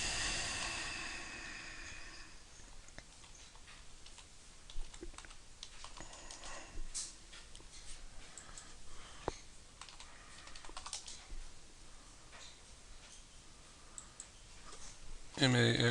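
Rapid clicking of computer keyboard typing at a quiet desk, steady soft keystrokes running throughout, with a louder clatter at the very end.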